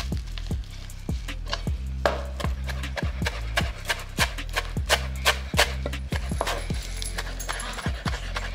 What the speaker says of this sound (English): We're gonna chop all this up, throw it into a bowl